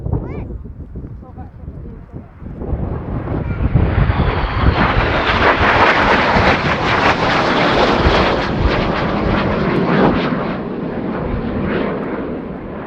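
Fixed-wing military aircraft taking off at the RIAT 2019 airshow, a loud sustained jet roar that builds and swells as it climbs away, with wind buffeting and a commentator talking over it.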